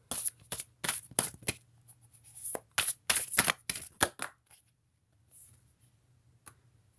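Tarot cards are shuffled close up in a run of quick, crisp riffling bursts. The bursts thin out into a few faint flicks and near silence, with no talk.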